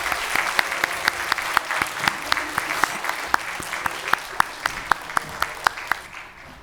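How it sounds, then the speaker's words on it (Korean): A church congregation at a Sunday worship service applauds warmly, a dense bed of clapping punctuated by a few sharp, rhythmic claps that stand out, fading near the end. "우리 들어가실 때 박수로 축하해 주시길 바랍니다"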